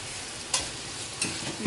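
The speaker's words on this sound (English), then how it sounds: "So right now, while this bacon is frying," Bacon fries in a pan with a steady broadband sizzle, broken by a few brief louder scrapes or stirs; no one talks.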